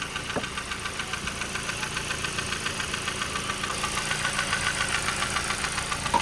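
Ford Focus engine idling with a rattle from a broken motor mount, a steady rhythmic knocking throb that repeats evenly and grows slightly louder toward the end, with no voices.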